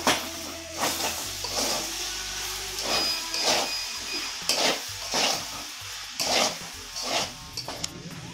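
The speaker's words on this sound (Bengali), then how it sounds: "আর একটু কষিয়ে নিই, তারপরে দেখে নামিয়ে দেবো।" Banana flower curry being fried and stirred in a pan, with a steady sizzle under repeated scraping strokes of a spoon at a close, moderately loud level and no talk.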